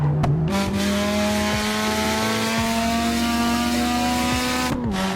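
Veilside RX-7 in a racing video game, its engine holding a steady, loud, high drone with pitch steps as it shifts and revs, tire noise underneath, continuous for the whole stretch.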